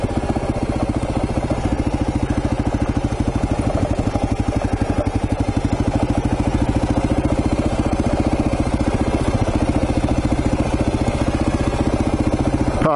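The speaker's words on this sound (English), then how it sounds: "And I'll keep a bit of engine braking. Not that there's much with a 16 tooth in first." A motorcycle engine braking in first gear on a long downhill road gives a steady, throbbing low rumble with a fast, even pulse, heard close and without talk for the whole stretch.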